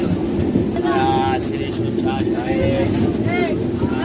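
Steady rolling rumble fills the cabin of the Kacheguda–Yeswanthpur express, train 12194, while it runs, a close, continuous roar with a person talking over it throughout.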